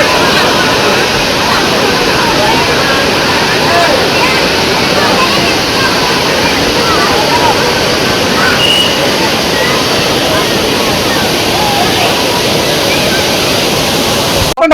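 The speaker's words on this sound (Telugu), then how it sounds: "వాటర్ ఫాల్స్ కి మేము చూడడానికి వచ్చాము" Waterfall at Kothapalli in Alluri district, a loud continuous broadband roar of falling water filling the whole stretch, steady and close with no clear voices.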